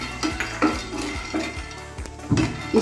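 Peanuts tumble into a hot pan and get stirred with a metal utensil, producing repeated clinks and scrapes in an uneven rhythm, close and fairly quiet.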